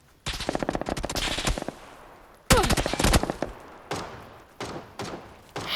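Shooter video game gunfire crackles in two rapid automatic bursts, followed by a few single heavy shots, loud and close with short gaps of quiet between.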